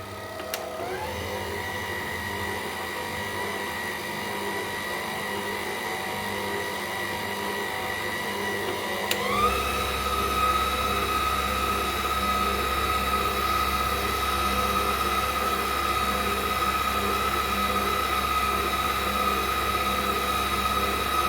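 An electric hand mixer whisks egg yolks in a bowl for a small Ghanaian party cake, giving a steady motor whine that jumps to a higher, louder pitch partway through and then holds there without any talk.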